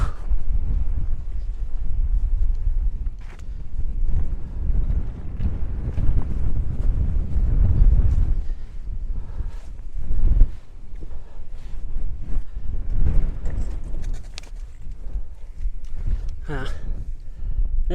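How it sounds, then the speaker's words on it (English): Strong wind buffets the microphone high on Mount Sill in winter, a continuous loud rumbling roar with gusty swells and no voices. "I'm gonna get out of this wind."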